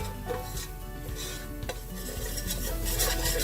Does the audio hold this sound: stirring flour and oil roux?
yes